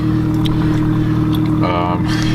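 An MK4 Jetta/Golf idles steadily as it warms up, a low constant engine hum heard from close by. Someone talks over it the whole time.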